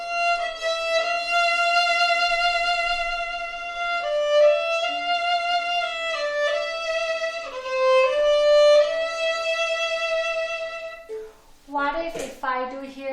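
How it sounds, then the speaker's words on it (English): A bowed string instrument plays sustained notes with a wide, slow vibrato, the pitch swaying broadly and unhurriedly across a few held tones, heard alone and fairly loud before a brief bit of talk at the end. "Here I'm doing wide and slow."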